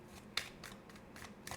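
Tarot cards shuffle in quick, soft, papery bursts, several short riffles in a rapid rhythm, heard close up and quiet.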